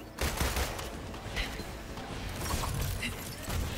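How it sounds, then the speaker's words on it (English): Gunfire in the Marvel's Avengers action video game: dense, continuous volleys of shots and impacts fill the whole stretch at a steady loud level, with a busy mechanical clatter throughout. "Stop with the shooting, bro."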